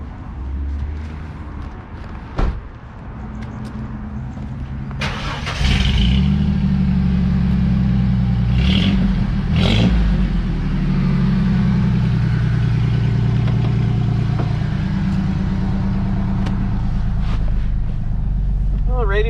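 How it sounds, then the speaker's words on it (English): A 1997 Ford F150 4x4 XL pickup starts up and settles into a steady, rumbling idle through its exhaust, with a brief rev or two early on, a loud close engine drone running throughout. "You can hear the exhaust. It's got a little tone."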